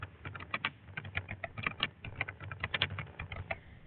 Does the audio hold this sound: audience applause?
no